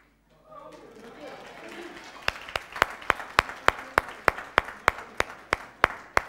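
Single person clapping in a church, about fourteen sharp, evenly spaced claps in a steady rhythm, loud and close, rising over low murmuring crowd noise in a large hall.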